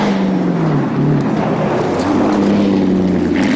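A 2010 Ford Mustang, American muscle car, drives a smooth road through woods, its engine a steady loud drone with shifting tone as it passes, continuous and alone.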